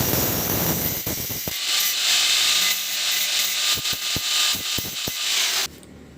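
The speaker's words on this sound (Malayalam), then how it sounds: "ഇനി നമുക്ക് ഈ സ്റ്റഡ് കറക്റ്റ് ലെങ്തിന് കട്ട് ചെയ്ത്" A metal stud for an old Royal Enfield Bullet engine is cut to length in a workshop, a loud grinding whine broken by rapid clicking bursts and short pauses before stopping abruptly.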